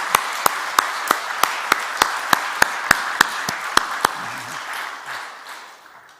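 A church congregation claps together during a Sunday worship service, a series of evenly spaced sharp claps fading into the sanctuary's lingering room tone.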